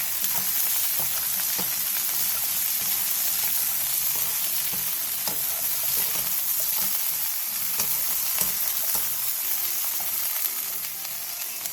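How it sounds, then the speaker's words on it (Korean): Shishito peppers with a little salt stir-fry in oil in a pan over medium heat, giving a constant loud sizzle with light scraping from stirring and no voices throughout. "팬에 기름을 두른 뒤 꽈리고추와 소금 1 2 티스푼을 넣고 중불에서 1분에서 2분 정도 볶아주세요."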